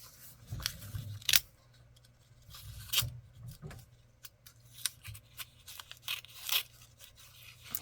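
Scissors snip through a vintage paper envelope in a series of separate, close, crisp cuts spaced irregularly among quieter paper rustles.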